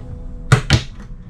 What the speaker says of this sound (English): Notice the pull out drawers.